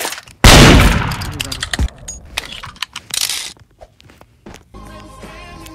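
A gunshot in the Roblox game Murder Mystery 2: one sharp, loud blast with a quick decaying tail, followed by scattered clicks, footstep-like taps and softer game sounds.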